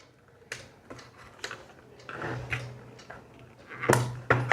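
Small plastic clicks and handling taps come from a robot vacuum's wire connector being pushed into place during a home repair, several sharp close clicks amid quiet fiddling.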